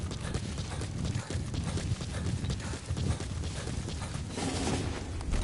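Horse hooves clip-clop steadily in Metal Gear Solid 5: The Phantom Pain, a continuous rhythmic trot mixed with game ambience and a brief neigh, fairly close and constant throughout.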